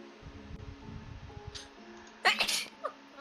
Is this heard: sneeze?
yes